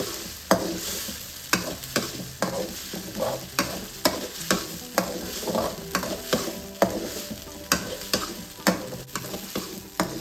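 Masala with turmeric fries in a pan for a chicken kurma, a steady sizzle broken by regular scraping strokes of a spoon stirring roughly every half second, close and fairly loud with no talking.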